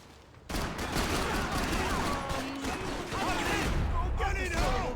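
Sustained gunfire in Max Payne 3 starts abruptly and keeps going as dense rapid bursts, loud and close, with shouted voices and other game noise mixed in.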